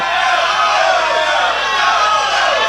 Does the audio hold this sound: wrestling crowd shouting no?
yes